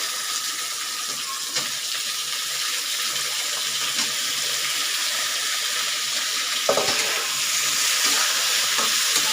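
Potatoes for brinjal and potato sabji fry in a pan with a steady, bright sizzling hiss, broken by a few soft clinks and stirring bumps.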